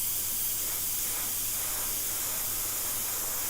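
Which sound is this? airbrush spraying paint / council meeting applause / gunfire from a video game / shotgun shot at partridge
airbrush spraying paint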